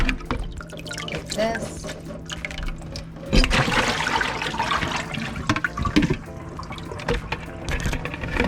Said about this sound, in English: now that we have rinsed our sunflower microgreens